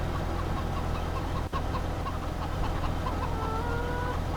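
Chickens cluck softly and repeatedly in the chicken zone of a farming video game map, a steady low murmur of fowl sounds over a constant background hum, with no talking.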